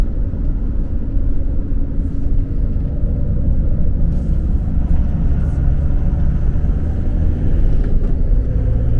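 A car driving along a road in Bosnia, a loud continuous low rumble of engine and tyre noise heard from inside, steady throughout with no talking.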